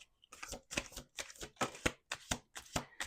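Tarot cards are shuffled in a quick series of crisp riffling bursts, close up, with a rapid steady rhythm and no talking.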